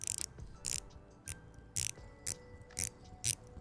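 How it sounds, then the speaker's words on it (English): A dive watch bezel being rotated gives a series of about seven crisp ratcheting clicks in short bursts, close and quiet against a soft background. "We'll give a quick bezel test. This is the only dive watch here that we can do this with."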